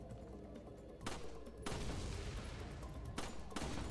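Rifle shots ring out at targets in the Resident Evil 4 video game, with several loud, sharp bursts followed by booming, noisy decays that overlap one another over a few seconds.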